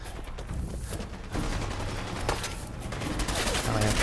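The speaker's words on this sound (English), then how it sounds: "I'm going to be getting shot at a lot." Dense gunfire and explosions from a firefight in the Fallout 4 video game, with rapid shots and bursts overlapping steadily at a loud, constant level, some booming impacts among them.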